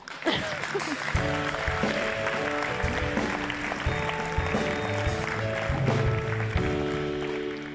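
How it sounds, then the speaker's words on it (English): Audience applause for prize winners at a European university review week opening, steady clapping running throughout while background music with sustained tones plays underneath at a moderate level. "A big round of applause, please."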